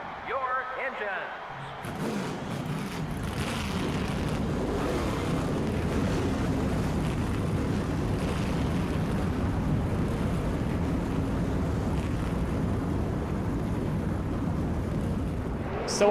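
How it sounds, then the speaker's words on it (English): A field of NASCAR race cars in the NASCAR Thunder 2000 video game fires up after a brief quieter opening, swelling into a loud, sustained, rumbling roar that holds steady to the end. "Gentlemen, start your engines."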